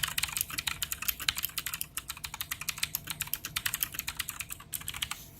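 Rapid, crisp clicking of Redragon mechanical keyboard keys with Cherry Blue clone switches being typed on steadily, close up and fairly quiet, with no voices.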